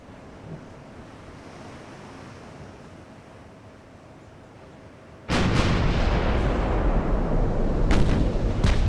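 A warship's main battery fires a broadside in the naval game Ultimate Admiral: Dreadnoughts, a sudden loud roar that erupts over quiet wind and sea ambience and rumbles on, with a further sharp blast near the end.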